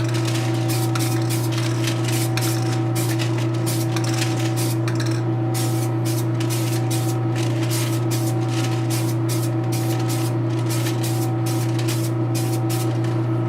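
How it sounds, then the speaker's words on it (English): Steady hissing spray, continuous and loud, with a constant mechanical hum underneath and faint rhythmic ticking. "So kind of give it a light spray at first"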